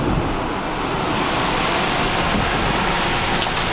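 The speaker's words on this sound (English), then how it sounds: "water just came off the bridge" Water pours and splashes off a highway bridge beside new asphalt and an on-ramp on Route 110, a steady rushing wash of noise that holds evenly throughout with no voices.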